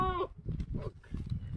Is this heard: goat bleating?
yes